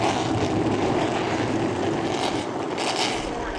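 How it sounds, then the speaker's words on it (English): A dense, loud engine roar holds steady throughout as several CRA Super Series race cars start together at Columbus Motor Speedway, with a rumbling, droning tone. "Gentlemen, start your engine."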